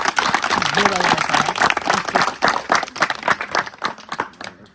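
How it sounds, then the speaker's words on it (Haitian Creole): A gathered group claps together for a family receiving the keys to their house, a dense, lively patter of hands that mixes with voices talking over it. "on bat notre gros applaudissement pour famille ça"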